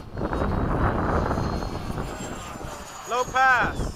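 A propeller airplane engine drones steadily in flight through bumpy turbulence during a formation sortie, with cockpit-fan buzz mixed in, loud and continuous throughout. A voice speaks briefly near the end over the engine noise.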